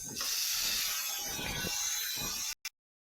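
Tomatoes drop into a hot pan of frying onion and green chilies for a village-style moonga bhaji, setting off a loud, steady hiss and sizzle that runs for about two and a half seconds before stopping abruptly.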